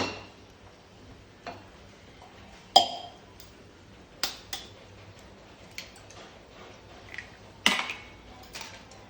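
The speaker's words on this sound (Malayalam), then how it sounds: "അതിന് ചട്ടി അടുപ്പത്ത് വെച്ചിട്ടുണ്ട്" A clay cooking pot handled on a kitchen stove: scattered sharp clinks and knocks, some louder and some faint, at irregular intervals over a quiet background, with no talking.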